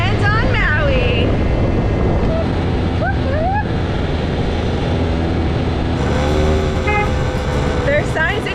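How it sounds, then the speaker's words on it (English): A moped horn toots in short, rising honks a few times over a steady rumbling engine and wind buffeting while riding on Maui, with voices chatting in between. "signs that tell you to blow your horn when you come around the corner"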